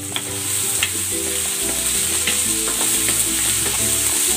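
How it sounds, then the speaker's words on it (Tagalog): Tomatoes and flaked fried fish sauté in a pan, giving a continuous close sizzle with light stirring and scraping throughout. "Igigisa ko na rin tong kamatis. Ilalagay ko na itong hinimay na pritong isda."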